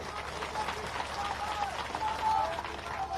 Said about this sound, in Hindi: ताली बजा के स्वागत करो जी